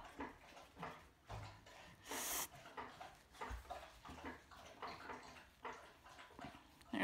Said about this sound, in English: There's my dog licking water again.